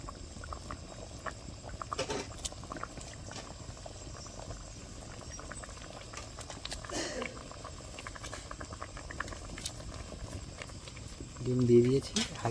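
Egg curry simmering gently in a pan, a steady soft bubbling and sputtering that runs throughout at low level, with faint background noise and a brief voice near the end.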